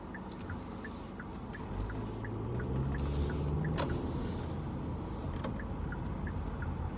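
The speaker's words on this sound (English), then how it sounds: "just in the middle of traffic here" Road traffic heard from inside a moving car, a steady low rumble of engine and tyre noise that swells midway, with a vehicle passing and a few light clicks, no talking.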